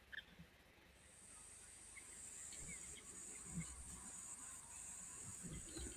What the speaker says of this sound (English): Still sounds like those cicadas are humming away.